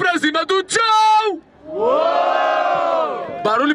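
Crowd at a rap battle final, shouting and a long drawn-out collective yell between bursts of loud voices from a speaker.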